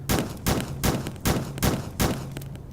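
A shotgun fired repeatedly in the Starbound video game, six punchy blasts at a steady pace of roughly two per second, loud and close.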